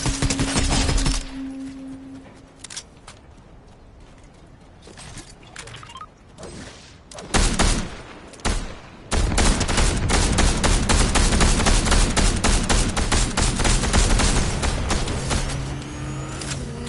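Video game gunfire in Fortnite: dense bursts of rapid automatic shots, loud and close, broken by a few single cracks early on, then sustained rattling fire through most of the stretch.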